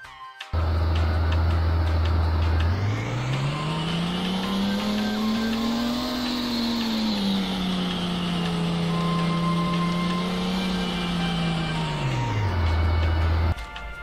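Synthesized car engine sound in Unreal Engine 4, a loud, close, continuous engine tone that holds steady, rises in pitch as it revs up, dips slightly, then falls back to idle.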